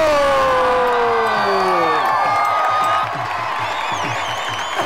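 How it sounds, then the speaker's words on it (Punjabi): A university audience at a Tashan Da Peg show at Desh Bhagat University cheers, whoops and claps in a loud, continuous roar, with shouted voices and whistling tones mixed in. "ਤੁਹਾਡੇ ਦੋਵਾਂ ਲਈ ਵੀ ਤਾੜੀਆਂ ਮਾਰਨੀਆਂ"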